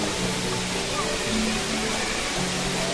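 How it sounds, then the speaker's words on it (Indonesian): Montel waterfall in the Muria mountains pours in a steady, loud, continuous rush of falling water with no pauses. "Air terjun Montel ning kawasan pegunungan Sunan Muria atau kawasan Tolol."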